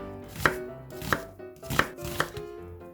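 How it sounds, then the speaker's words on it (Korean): An onion being julienned with a knife on a cutting board for tteokbokki, four evenly spaced, crisp chopping taps close up. "양파를 채 썰어 주세요."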